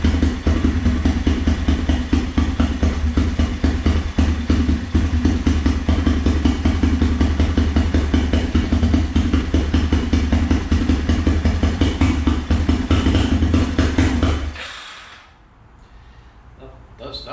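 A Yamaha Grizzly 350 4x4 ATV engine runs loud and steady at a close idle with a continuous mechanical clatter, then cuts off abruptly near the end, leaving near silence.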